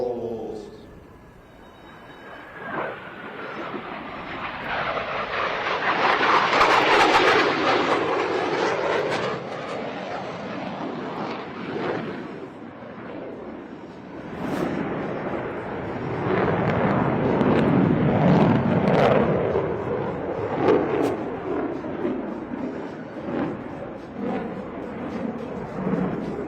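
Jet aircraft fly opposing horizontal rolls at an air show, passing as two big swelling roars that rise and fade, loud and rumbling, with an announcer talking over them.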